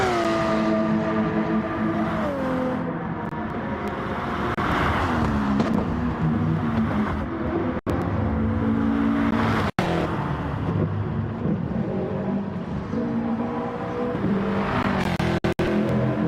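Race cars in a sim racing video game roar past, engines revving up and down through gear changes in a continuous, loud stream of whining engine tones with a few sharp glitches.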